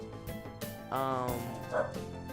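A small dog gives a few yipping barks and whiny bow-wows close by, in short bursts over a couple of seconds.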